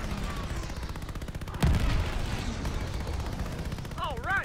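Aircraft machine-gun fire in the Call of Duty Vanguard campaign during a dogfight, with a sustained rattling stream of shots, a sharp heavy impact partway through and whining engine sweeps near the end.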